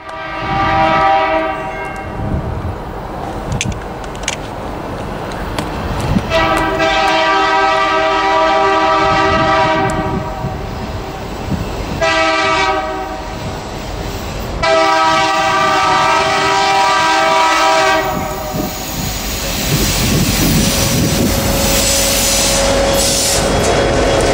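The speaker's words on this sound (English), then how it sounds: "train 733 comes around the corner with quite the surprise" NSF 9649, an SD70 locomotive, rumbles past close by with a long, loud horn sounding in several blasts over the steady roar of the wheels.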